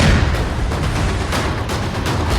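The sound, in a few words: demolition blast of terrorist's house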